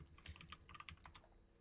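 Computer keyboard keys clatter in a quick, irregular burst of close, light taps, fairly quiet and with no voices.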